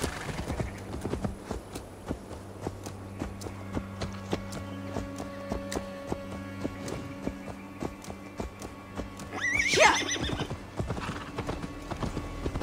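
Rhythmic hoofbeats of a horse in Assassin's Creed Valhalla clatter along at a walking pace, with a loud neigh rising near the end over soft background music.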